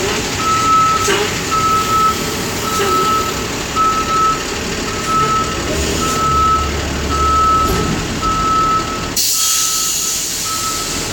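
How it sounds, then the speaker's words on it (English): A truck's reversing alarm beeps at a steady regular pace, about ten evenly spaced beeps over a loud, continuous engine rumble, with a brief hiss of air toward the end. "No more beeping."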